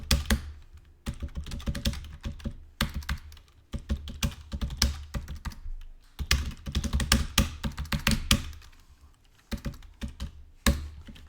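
Bursts of rapid typing on a computer keyboard while writing Python code, close-up clicky keystrokes in quick runs separated by short pauses, with no voice over them.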